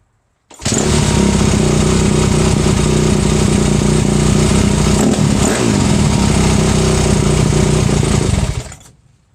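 A 2005 Kawasaki KX250F motorcycle engine, just after a carburetor adjustment, catches abruptly and runs loud and close at a steady, rough idle for about eight seconds before cutting off.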